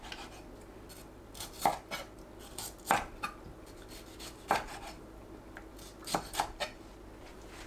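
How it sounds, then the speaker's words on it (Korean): Tomatoes being sliced into bite-size pieces for a stir-fried tomato and tofu dish, heard as a handful of separate knife strokes knocking on a cutting board at uneven intervals, up close with no talk. "토마토를 한 입 크기로 썰어주세요."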